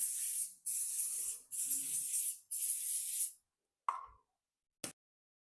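Cooking spray hisses onto a waffle maker in four steady bursts, followed by a couple of faint clicks and taps.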